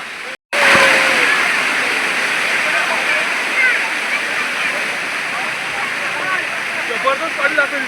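A hidden monsoon waterfall at Matheran roars with rushing water, a loud, constant close-up torrent broken only by a brief gap near the start.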